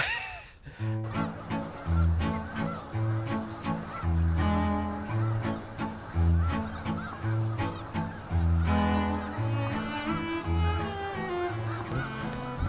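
A large flock of geese or brant honks nearby, loud overlapping calls repeating in quick, uneven bursts throughout.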